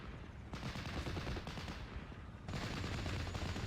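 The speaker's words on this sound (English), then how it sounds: "Proving that machine guns still have a point here." Vickers machine gun fire in the Steel Division 44 wargame, heard as dense, continuous rattling bursts that stay loud throughout, with a sharper burst starting partway in, amid battlefield din.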